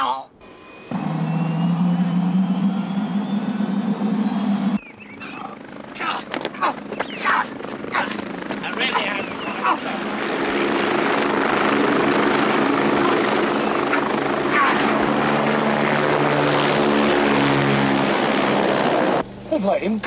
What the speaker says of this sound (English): Follow that helicopter!